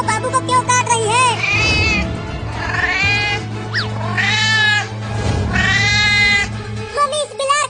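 A cartoon cat meows and yowls loudly in long, drawn-out wails, several cries in a row with a steady hum underneath.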